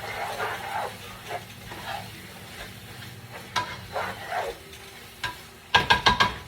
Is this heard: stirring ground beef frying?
yes